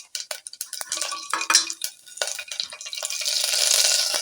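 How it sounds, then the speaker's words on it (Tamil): Dried red chillies, green chillies and asafoetida hit hot oil in a pan: close scraping and clattering of stirring comes first, then a hiss that swells into a steady sizzle, with no voices. "அது பொரியல் அதோட வரமிளகாயும் பச்சை மிளகா பெருங்காயத்தையும் சிறிது சேர்த்துக்கிறோம்"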